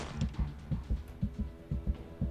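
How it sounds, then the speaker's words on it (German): A character's heartbeat in the video game Days After thumps in a steady, close double-beat rhythm, roughly eight pulses in quick succession over a low ambient hum, with no talk. "jetzt hören wir die ganze Zeit diesen Herzschlag des Charakters"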